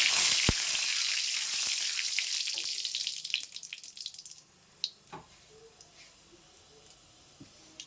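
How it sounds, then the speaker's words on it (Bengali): Mustard seeds frying hard in hot oil, already well burnt: a loud, bright sizzle that gradually dies down, then sparse spatula scrapes and clinks as they are stirred in the pan. "সর্ষেটা বেশ পুড়ে গেছে তো এবারটা আমি একটু নাড়িয়ে দেবো"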